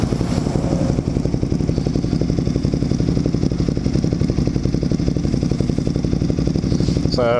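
A twin-cylinder motorcycle engine runs close and loud, giving a steady, rapid, pulsing throb that barely changes over several seconds.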